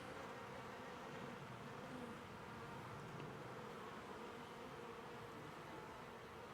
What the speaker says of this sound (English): There are bees on the wall of the box.